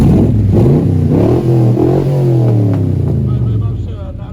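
A Ford 18 Cobra engine revs hard right beside the exhaust, a loud, sustained roar with rising and falling pitch sweeps that slowly eases off toward the end.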